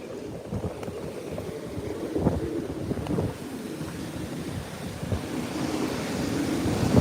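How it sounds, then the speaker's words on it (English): Strong hurricane winds roar and gust steadily near the shore in Louisiana during Hurricane Francine, with heavy buffeting on the microphone and surf-like rushing throughout. "Listen to the wind."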